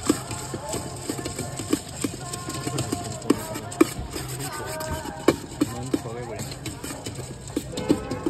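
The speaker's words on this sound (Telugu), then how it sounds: "ఉల్లిపాయలు కొడుతుంది" Rapid knife chopping of onions at a street food stall, a brisk run of sharp taps over busy crowd chatter and clatter, with people talking nearby.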